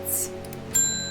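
A doorbell chimes in the video game Strange Horticulture, a bright two-tone ring with a ringing sustained tail over a quiet musical backdrop, preceded by a faint chime.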